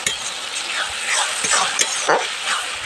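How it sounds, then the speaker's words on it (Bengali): Tomato, ginger and garlic paste stir-fried with onion in a pan: steady close sizzling and frying hiss with scraping stirring strokes against the pan throughout. "টমেটো আদা রসুন বাটাটাও খুব ভালোভাবে কষিয়ে নিয়েছি"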